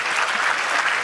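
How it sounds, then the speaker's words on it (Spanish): A conference audience in Lima applauds loudly and steadily, a dense wash of clapping with no talk over it. "les pido por favor fuertes aplausos"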